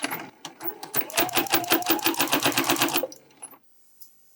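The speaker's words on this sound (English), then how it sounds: "over at the machine, I am going to be sewing my straps closed with 1/8 of an inch seam allowance" A sewing machine stitches tote bag straps with a 1/8-inch seam allowance, running in a fast, steady rhythmic clatter up close for about three seconds before slowing and stopping into near silence.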